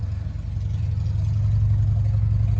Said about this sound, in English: That's a really loud motorcycle.